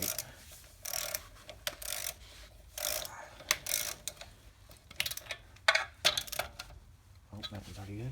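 Bolts being tightened during a leveling kit install on a 1995 Ford F-150, a series of quick ratchet clicking bursts with short pauses between them, close and fairly quiet.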